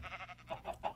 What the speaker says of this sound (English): Alright, here's some sheep.